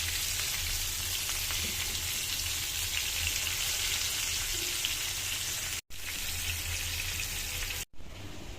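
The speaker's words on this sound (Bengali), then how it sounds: "ভাজার জন্য তো তেল বেশি দিচ্ছি আর কি।" Potatoes fry in plenty of oil, giving a steady, dense sizzle that continues close and even throughout, broken only by two very brief cuts.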